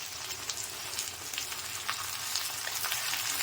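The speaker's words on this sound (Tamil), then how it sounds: "பாருங்கள், வெண்டைக்காய் நல்லா அப்படி வதங்கணும்." Okra fries in hot oil with a continuous, fairly quiet sizzle and faint crackling pops throughout.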